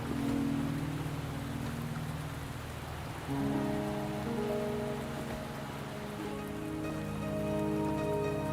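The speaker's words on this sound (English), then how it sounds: "Are you trapped here by the rain?" Steady rain falls in the Wuthering Waves video game, a dense continuous patter on surfaces mixed with low tonal game music, no voices.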